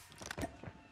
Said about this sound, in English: Reloading, cover me.